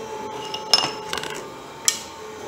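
Metal clanks and scrapes as a Bridgeport mill's step pulley is pried off with two pry bars, giving a few sharp close metallic knocks at irregular intervals over a quiet shop background.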